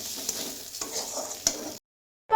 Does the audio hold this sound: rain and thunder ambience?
no